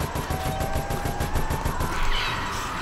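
Rapid automatic gunfire from special forces in Resident Evil: Operation Raccoon City, a steady rattling burst of shots running loud and continuous throughout, with game effects layered underneath and no talking.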